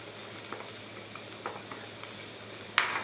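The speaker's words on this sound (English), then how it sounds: "So I'm going to add my garlic." Garlic goes into onions that have cooked for about four minutes in a pan, bringing a steady low sizzle with a few soft stirring scrapes and a sharper clink near the end.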